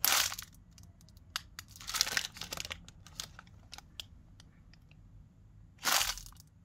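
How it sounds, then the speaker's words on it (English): Paper crunched and crumpled by hand as a stand-in for an egg cracking in an indie game, heard as close, dry crackling bursts with a sharp crunch near the start, middle and end, separated by quieter rustles. "I crunch papers to make the sound effect when the egg cracks."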